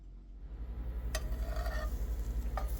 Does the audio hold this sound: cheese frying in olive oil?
yes